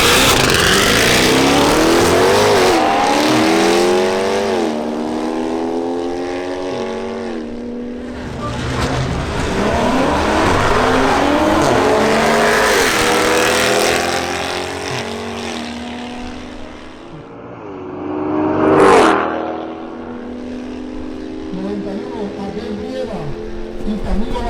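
Cars such as a Corvette, Celica 2JZ, BMW M240i and Mustang accelerate hard in a drag race, engines roaring and shifting through rising gear sweeps, loud and close, then a brief high whine and another engine building.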